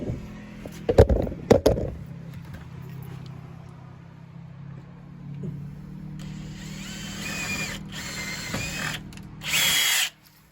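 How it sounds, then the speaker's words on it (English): A power drill whirs steadily for several seconds, drilling through an existing hole in a storm door while fitting a latch, with a few sharp knocks at the start and a brief louder burst near the end. "I'm just going to drill through that hole"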